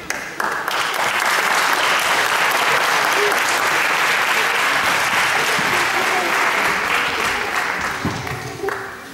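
Audience applause after a piece at a Christmas concert in Częstochowa, a dense, steady clapping from a full hall that holds for about eight seconds before tapering off.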